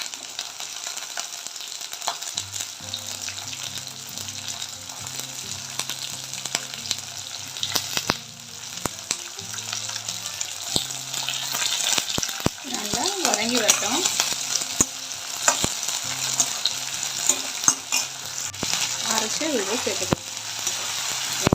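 Onion, tomato, ginger and garlic sautéing in a pan make a continuous close sizzle with repeated stirring scrapes. A voice speaks intermittently over the frying, and background music plays.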